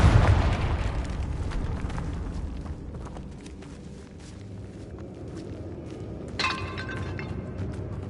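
A Confringo blasting spell explodes in the video game Hogwarts Legacy, opening with a loud, close burst that fades into a rumbling, crackling decay, followed by a smaller crack a few seconds later. No one speaks.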